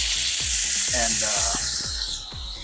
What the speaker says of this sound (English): a little bit more olive oil to this. And then to this, I'm going to add 1 cup of the celery,